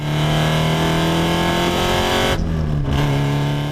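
A loud car exhaust rumbles steadily with a deep droning tone, then briefly revs and crackles before settling back into a heavy idle.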